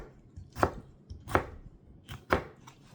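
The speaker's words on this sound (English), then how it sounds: "Cut it in strips. Cut it in chunks." Four sharp knife chops, spaced roughly evenly, cut vegetables into chunks on a board while making a chunky salad, with faint kitchen background between strokes and no talking.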